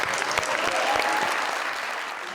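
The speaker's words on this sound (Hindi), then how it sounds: "इनके लिए बहुत सारी तालियां" Audience applause for a prize winner on a comedy game show, a dense steady wash of many hands clapping at moderate volume that tapers slightly toward the end, with no talking over it.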